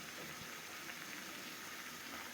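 Eggplant curry, cooked with little oil and spice and no garlic, boiling in a pot: a soft, steady bubbling hiss with no breaks, quiet and close.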